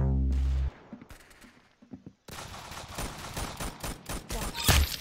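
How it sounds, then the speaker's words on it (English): Gunfire in the Roblox shooter game Arsenal, with loud, dense bursts of rapid automatic fire crackling nonstop across the second half, after a brief tone and a few scattered shots. "Very good shooting."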